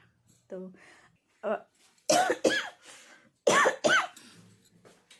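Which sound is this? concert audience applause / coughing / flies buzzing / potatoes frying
coughing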